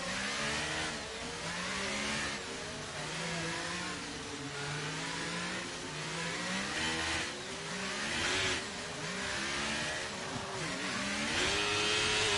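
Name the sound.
F1 car accelerating at full throttle, from an F1 sim racing game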